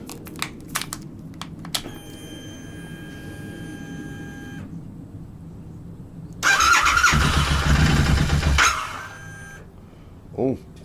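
Royal Enfield motorcycle engine cranking and firing up, a few clicks and mechanical ticking, then a loud burst of engine running for about two seconds before dying away, with a faint sound at the end.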